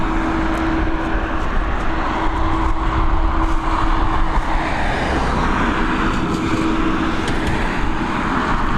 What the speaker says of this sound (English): Look at this beautiful Qatar Airways 787 Dreamliner.